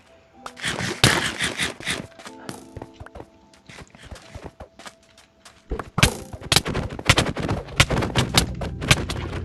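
Rapid bursts of video game gunfire in a PvP match, with dense volleys of sharp shots early and again in the second half, separated by a quieter stretch.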